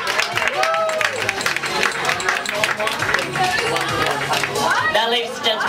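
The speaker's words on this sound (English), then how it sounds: "can we have a round of applause for all the photographers here, please?" Audience applause for photographers at the Miss T Girl Birmingham 2010 pageant heat, a dense wash of clapping and crowd noise throughout, with music and voices blended underneath.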